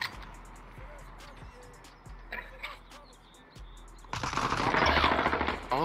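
Automatic weapon fire in a Modern Warfare multiplayer match, several short bursts early on, then a louder, denser stretch of sustained firing and game noise near the end.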